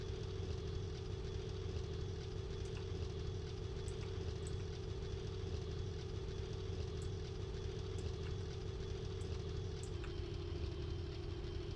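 Steady low engine drone of a vehicle idling after throttling down in a Minecraft modpack game, continuous and even with faint ticking clicks over it and a slight drop in pitch near the end.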